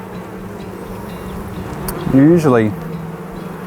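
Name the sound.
honey bees buzzing on a hive frame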